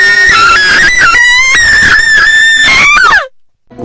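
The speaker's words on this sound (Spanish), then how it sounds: "hasta que escuchamos un grito" A loud, shrill scream rises and wavers for about three seconds, close and intense, then cuts off abruptly into near silence. It carries no words.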